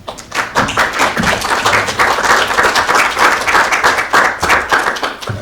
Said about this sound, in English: Could you just give a round of applause?